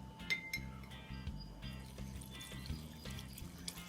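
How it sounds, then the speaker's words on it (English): Alcohol is poured into a glass jar packed with herbs to make an anti-inflammatory tincture, with soft liquid trickling, faint glassy clinks and taps close by, and a low hum running underneath. "so now we're going to pour in the alcohol"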